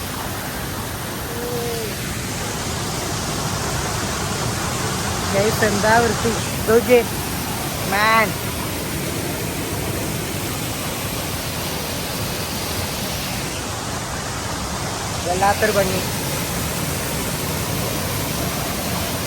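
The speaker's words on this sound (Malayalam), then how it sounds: "ഭയങ്കര ഒഴുക്കുണ്ട്" Water flowing strongly after rain makes a steady, loud, broad rushing roar throughout, while someone talks over it at a few points.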